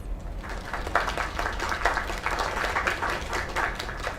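A crowd in a video game applauds steadily and fairly loudly for several seconds. The clapping is continuous and dense, and no voices are heard over it.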